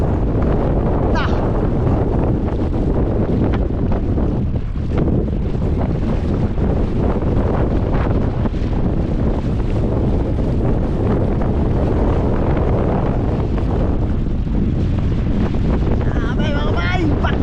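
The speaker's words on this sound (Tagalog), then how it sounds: "Malapit ang mapunit sa lakas ng amihan nito mga bay." Strong northeast monsoon wind blasts across the microphone by the sea where boats are moored, a loud, continuous roaring rumble that never lets up, with faint surf and water sounds beneath it.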